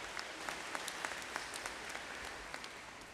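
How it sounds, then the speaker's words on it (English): A graduation ceremony audience gives a fairly faint, distant round of applause, steady pattering claps throughout with no voices on top. "Let's give them a big round of applause."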